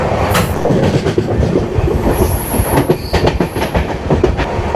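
Loud, continuous rumble of the Sapthagiri Express train moving at around 103–107 km/h, with rhythmic clickety-clack of wheels on rails and a brief high squeal.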